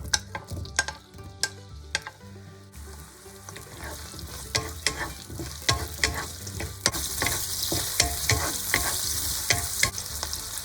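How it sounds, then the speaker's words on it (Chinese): Onion slices hit hot sunflower oil over high heat and sizzle loudly, with a steady frying hiss building as the spatula stirs and clacks rhythmically against the wok. "倒入洋葱片"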